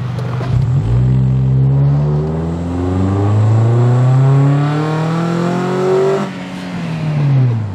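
A Honda Civic FD with a K20 engine, headers, K&N intake, twin Spoon mufflers and coilovers accelerates hard from inside the car, its engine note climbing steeply through one gear, briefly easing at a shift, then rising again loud and close.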